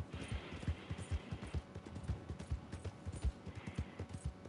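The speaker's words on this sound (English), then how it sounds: "This horse is slow as shit." Horse hooves trotting in Red Dead Redemption 2, a steady clip-clop rhythm of many close, distinct impacts running through the whole stretch with no talk over it.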